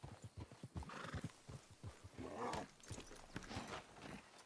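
A donkey in Red Dead Redemption 2 stands nearby, its hooves clopping in an uneven rhythm, followed by a loud braying whinny, with faint movement and ambient noise around it.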